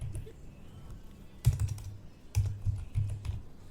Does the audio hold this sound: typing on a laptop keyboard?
yes